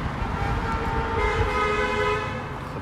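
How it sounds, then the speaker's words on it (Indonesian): A car horn sounds in a quiet street in the Colombo 7 area of Sri Lanka, with steady traffic noise beneath it and no talk. "Ada klakson mobil."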